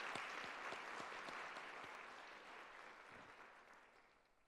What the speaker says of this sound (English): One more round of applause for everybody who helped out today.